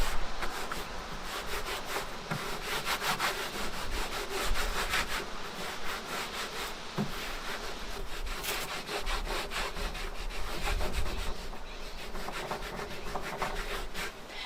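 A cloth rubbed back and forth over wrinkly bark-tanned leather to work in oil, giving a steady rasping, scratchy friction in quick repeated strokes, close and fairly loud, with no talking.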